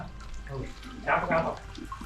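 Spring water trickles and seeps inside a 200-year-old well, a brief brighter splash rising midway over a low hollow background, with a person talking throughout.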